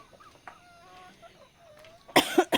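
Chicken clucking faintly around a house on a mountaintop, with a few soft calls followed by a loud, harsh close burst that may be a cough.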